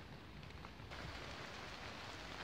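Rain begins falling in woods, a dense, even patter of drops on leaves and ground that grows slightly fuller after the first second, faint and steady with no talk.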